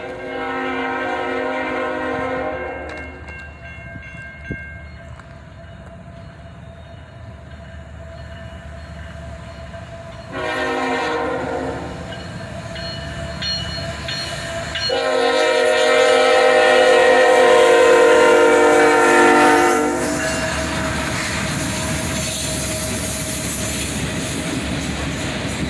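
A southbound CSX freight train led by three locomotives passes, sounding several long horn blasts over a deep engine rumble, then the roar and rolling clatter of wagons swell as it goes by close.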